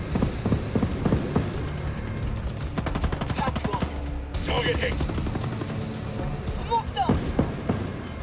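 Rapid bursts of automatic gunfire from a Ghost Recon: Breakpoint firefight, dense repeated cracks in fast rhythmic strings with brief pauses, loud and close over background game ambience and faint voice sounds.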